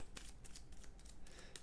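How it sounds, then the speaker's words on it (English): Rapid riffling of Game of Thrones board game card decks being shuffled, a quick series of soft papery flutters and snaps at close range, quiet and alone. "so I'm going to shuffle deck 1"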